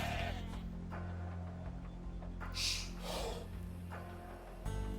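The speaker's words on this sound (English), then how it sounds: "Okay, we got some sheep as well." Sheep bleating in the strategy game Age of Empires II, a few short nasal bleats rising over a faint steady game background hum, fairly quiet overall.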